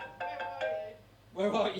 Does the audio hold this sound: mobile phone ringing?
yes